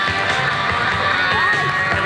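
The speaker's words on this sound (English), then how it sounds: "Round of applause for Mad Marky, the 400cc pilot buggy." Crowd applause and cheering at an extreme stunt show after a 400cc buggy jump, a steady, dense wash of clapping and shouts sustained throughout.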